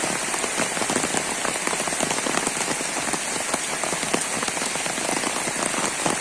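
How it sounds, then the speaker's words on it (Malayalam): Heavy rain pours steadily on a road, a dense hiss of countless drops pattering on surfaces with no pauses and no voices. "നല്ല മഴയുള്ള ദിവസമാണിന്ന്"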